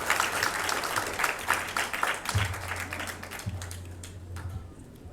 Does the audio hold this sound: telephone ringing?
no